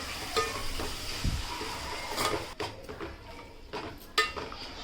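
Ivy gourd and potato pieces stirred in a pan while cooking a dry prawn curry, with scraping spatula strokes and metallic clinks against the pan over a faint sizzle, close and uneven.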